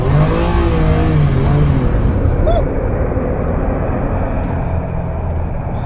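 A Ferrari 456 GTA with automatic gearbox revs hard during an attempted spin, a loud, sustained engine roar heard from inside the car that eases slightly partway through.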